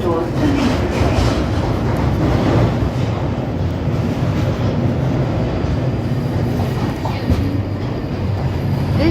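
A London Underground Northern Line train runs through a tunnel with a loud, continuous rumble and wheel clatter, heard from inside the carriage, with a faint announcement voice mixed in.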